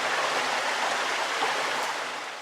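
A mountain stream rushes steadily through dense vegetation, a loud, continuous broadband wash of flowing water with no voices.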